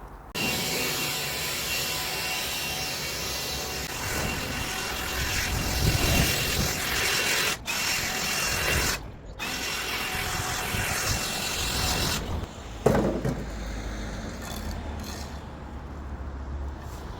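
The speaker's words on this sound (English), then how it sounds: "Time to leaf blow all this off now." A leaf blower roars steadily while clearing loose debris off a block paving driveway at a house, with a couple of brief dropouts and a shift in tone near the end.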